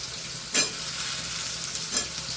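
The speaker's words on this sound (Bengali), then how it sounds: "বেশি ভাজবো না, আস্তে আস্তে ভাজা হবে" Rohu fish slowly frying in a pan gives a steady, close sizzle, with two short louder bursts of crackle about a second and a half apart, and no voices.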